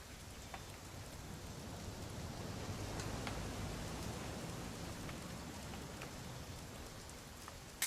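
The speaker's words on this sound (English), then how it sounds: "It's gonna rain the whole weekend" Steady rain in the video game What Remains of Edith Finch, a dense, even hiss of falling drops with scattered small patters, continuous and fairly soft throughout.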